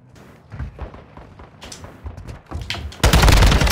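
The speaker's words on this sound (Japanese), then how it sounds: "味方の銃声違うんかい、敵じゃないんかい。" Gunfire rattles in Call of Duty: Modern Warfare 2 online multiplayer, with scattered nearby shots and bursts that build into a loud, dense volley of sustained firing at the end.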